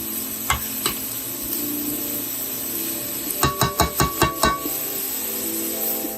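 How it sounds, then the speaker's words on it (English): Celery, onions, carrots and garlic sautéing in a pot for lentil soup, a steady sizzle under a rapid run of about seven spoon clanks against the pot, with a couple of earlier knocks. "my celery, onions, my carrots, and my garlic in here that I am sauteing"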